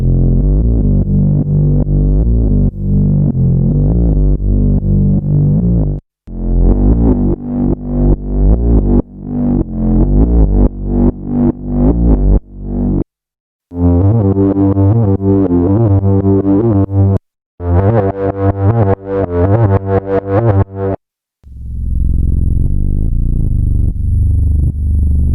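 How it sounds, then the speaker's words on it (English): Sampler audio pitched down 24 semitones on a sampler like the Digitakt or OP-1, low murky tones that stutter and break apart into separate chunks with abrupt silent gaps, loud and alone. "I pitch shifted this down minus 24 semitones, and Machine A just completely breaks up"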